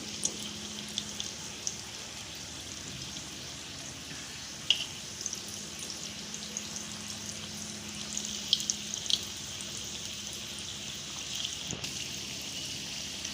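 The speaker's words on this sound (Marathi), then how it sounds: "आता आपण हे खव्याची गोळी तळून घेऊया बारीक गॅस केलेला आहे मी बारीक गॅसवरच तळून घ्यायचे" Khoya balls bound with gram flour frying in oil over a low flame, giving a steady soft crackle and bubbling hiss with occasional small pops, close and fairly quiet, no voices.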